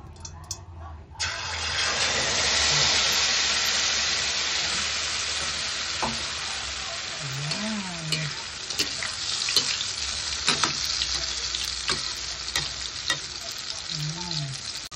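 Eggplant torta sizzling loudly in hot oil in a pan, a steady dense frying hiss that fills the whole stretch, with a few faint scrapes and clicks and brief low background sounds.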